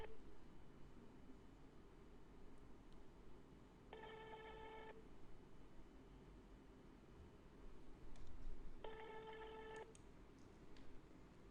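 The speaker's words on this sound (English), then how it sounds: "Oh, I'm really sorry now, Barnabas, because Miss Evelyn did not answer the phone" A telephone rings unanswered in two separate bursts of electronic ringing with a long gap between them, set over a constant background hiss.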